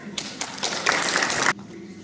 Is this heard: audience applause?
yes